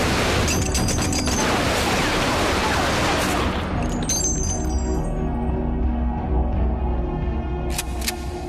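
A Thompson submachine gun fires in a dense, loud burst of rapid shots with clinking debris, as in a gangland hit of the Prohibition era, then dies away into a ringing, noisy tail.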